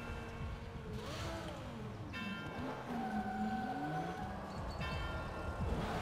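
Sports car in the Burnout Paradise video game, a steady engine drone with rising and falling whines as it drives, plus a siren-like wavering tone, moderately quiet and continuous.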